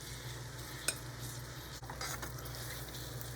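Apples cook in a hot pan with a soft continuous sizzle, a spoon scraping through them, and one or two brief clinks along the way.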